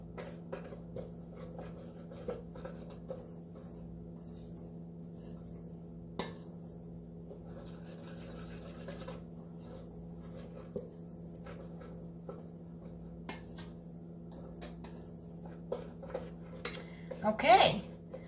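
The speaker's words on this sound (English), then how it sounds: "you're just going to take a little whisk and just kind of mix it together really good" A small whisk mixes almond flour and baking powder in a bowl, making faint, scattered light clinks and taps against the bowl over a low steady room hum.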